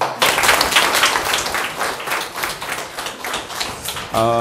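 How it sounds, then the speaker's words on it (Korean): Loud, dense applause from a crowd at a lecture, steady clapping throughout before a brief voice cuts in at the very end. "큰 박수로 모실 수 있도록 하겠습니다"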